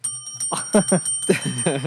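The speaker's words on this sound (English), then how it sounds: "Outrage bell is this." Bell rung on a rugby podcast live stream: a few bright, sharp dings ringing out over lively talk and sustained high tones.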